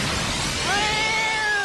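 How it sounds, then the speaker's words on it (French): Cat meowing in a Pokémon game parody, a single drawn-out wavering meow that rises and then holds steady, loud and close over a noisy background. "C'est pas un Pokémon, ça, c'est un chat."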